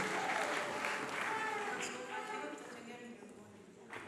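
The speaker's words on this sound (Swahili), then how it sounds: "Huyu mama askofu wa Joe jamani makofi mengi kwake." Church congregation clapping at a fundraising service, a dense wash of applause that starts strong and slowly tapers over several seconds, with voices mixed in.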